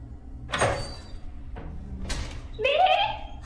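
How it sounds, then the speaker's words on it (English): A door is pushed shut indoors, giving a few short scraping and thudding bursts spaced over a few seconds. A voice rises near the end. "Close the door myself."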